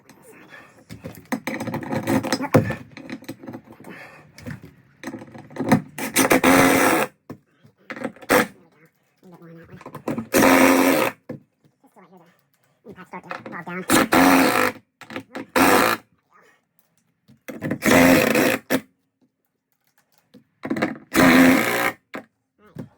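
Power driver running in repeated short bursts as bolts for a golf cart tie-down system are fastened into the floor of a Riverstone 42 FSKG toy hauler RV, loud whirring spurts separated by pauses and handling noise.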